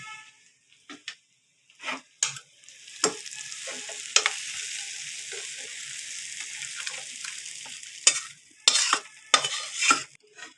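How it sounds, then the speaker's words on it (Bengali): Fried spices stirred into simmering moong dal with fish head in a pan, giving a steady sizzle with intermittent scraping bursts of the spoon, close and fairly loud, no talking. "ভেজে রাখা মশলাগুলো দিয়ে দেবো।"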